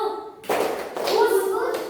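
A group of children in a classroom claps together on cue, one sharp burst of claps after a short pause, with a teacher's voice and child chatter around it.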